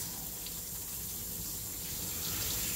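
A steady stream of tap water rinses a dog during a bath, a close, continuous gushing and splashing with no pauses and no talking.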